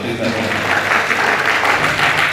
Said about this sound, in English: our MCs deserve a round of applause